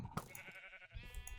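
A sheep bleats in the video game Minecraft, a few short wavering calls heard close over quiet game background.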